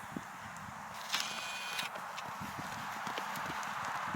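An experienced horse canters through a grid of jumps on an arena surface, its hoofbeats thudding in a steady, moderately close rhythm over a constant background hiss, with faint talk at times.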